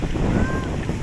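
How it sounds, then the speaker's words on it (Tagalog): Strong coastal wind buffets the microphone in a rural garden plot near the sea, a loud, continuous low roar with a faint whistling tone rising briefly in the middle. "yung hangin ang lakas oh"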